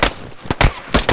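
Several sharp video game gunshots, loud and close, fired as separate bangs in quick succession over about a second with no talk.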